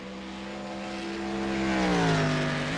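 Racing-game sports car engine at Donington drones as a steady, moderately loud tone, its pitch shifting through a gear change, heard alone without talk.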